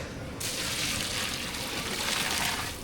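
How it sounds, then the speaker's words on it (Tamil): Water pours into a pot of biryani rice and masala, a steady close rushing splash that starts abruptly and runs on evenly without talk. "பிரியாணிக்கு தேவையான தண்ணி சேர்த்துக்கலாம்"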